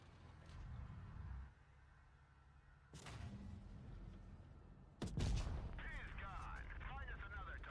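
Tank cannon fire rings out in a World of Tanks Blitz battle: several heavy booming shots land at intervals, the last one loudest and followed by rumbling, with no speech.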